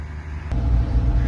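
Suzuki off-road vehicles roll out of camp in a convoy, a low engine rumble rising suddenly partway through and holding steady and close to the end.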